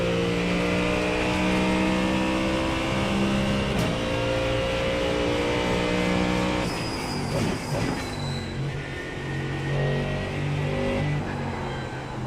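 A Mustang race car in iRacing, the engine droning steadily at high revs, loud and continuous with a brief dip and pitch shift partway through.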